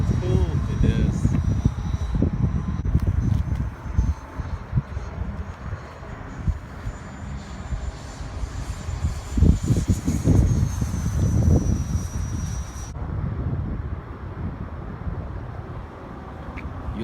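An electric remote-control model airplane on a big battery drones overhead above a flying field for the whole stretch, a steady engine-like whine over wind noise and bursts of outdoor handling and scuffing.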